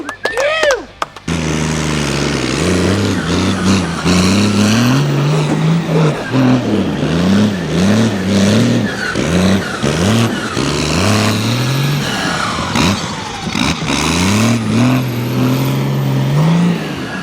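Several 4x4 mud buggy engines rev repeatedly in rising and falling bursts during an off-road race, loud and close, with voices shouting over the revving.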